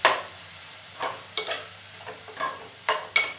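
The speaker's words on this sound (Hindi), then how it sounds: "इसको फिर हम मिक्स कर लेंगे" A spatula stirs fiddlehead fern greens with a little salt in a pan for an Assamese dhekia saag dish: about seven separate scraping strokes over a soft background sizzle, no talking.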